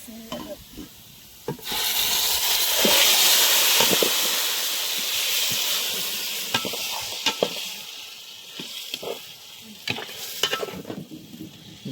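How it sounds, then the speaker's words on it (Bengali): Marinated meat hits a pot of fried onions for Haji Mokhan biryani and bursts into a loud hissing sizzle that gradually settles, followed by repeated scraping and stirring knocks against the pot. "বেরেস্তার মধ্যে সরাসরি ম্যারিনেট করা যে মাংস ঢেলে দেবো"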